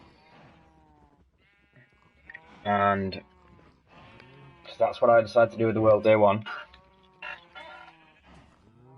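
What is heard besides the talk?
sheep bleating on a sheep farm in a video game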